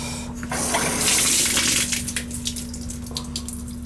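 Water gushing and spraying from a badly leaking outside shower valve, a close steady rush that swells loud for a couple of seconds then eases with splashing, under a constant low hum.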